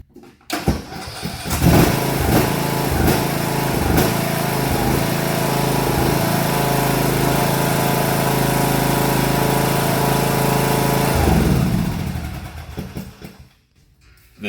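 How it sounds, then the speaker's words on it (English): A riding lawn mower's engine starts up and idles steadily outdoors at night, a loud continuous drone close by that holds for about ten seconds before cutting off. "when we start it up, you'll see the regular headlights"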